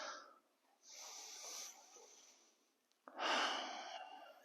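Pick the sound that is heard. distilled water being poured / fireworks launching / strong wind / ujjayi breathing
ujjayi breathing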